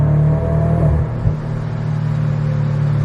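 A Scion FR-S drives through a downtown Phoenix tunnel, its engine droning loud and close with a steady rumble that dips near the middle, where one short pop-like burst stands out.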